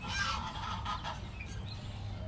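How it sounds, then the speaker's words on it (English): Pekin ducks, also called Long Island ducklings, on a farm give loud nasal honking calls in a few quick bursts over steady outdoor background noise. "I do have 3 of our Pekin ducks that we do have on the farm"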